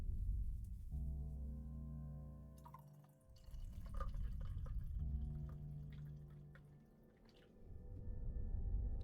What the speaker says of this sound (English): I need to pour some tea.